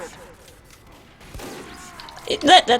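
Grenade spam from a Demoman in a Team Fortress 2 match, shots and blasts building from scattered thumps into a dense, loud barrage of explosions near the end, with game noise underneath.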